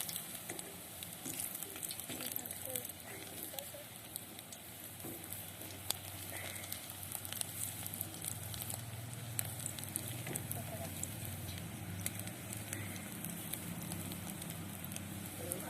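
Pakoras fry in hot oil alongside flat beans at an outdoor rooftop picnic, giving a continuous soft sizzle with faint crackles and patters, steady and close, and no clear talk over it.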